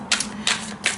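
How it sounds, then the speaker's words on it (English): A tarot card deck is shuffled in three quick crisp riffling bursts, close and fairly loud, evenly spaced within a second. "I need to give this deck a good shuffle"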